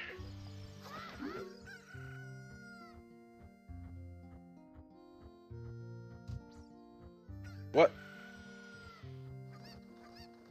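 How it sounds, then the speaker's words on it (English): Chickens in a Zelda game cluck and crow in a busy overlapping chorus, with a loud squawk standing out near the end, fairly quiet overall, and a voice briefly reacts. "the chicken apocalypse is happening"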